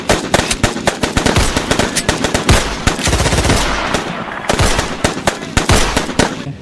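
Rapid bursts of gunfire crack out in dense, overlapping volleys, loud and sustained, with no voices, as at a house during a night-time shooting attack.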